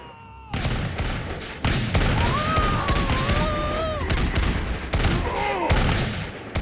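Volleys of gunfire and thuds from a Totally Accurate Battle Simulator battle, dense and loud throughout, with overlapping shots and impacts plus whistling, warbling tones over the top and no speech.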